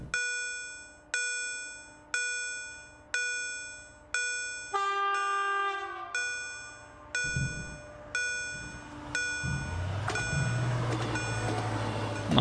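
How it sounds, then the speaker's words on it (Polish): A level-crossing bell dings steadily, then an Arriva train rolls past with a deep rumble and clatter building beneath the ringing. "Już przejechał pociąg"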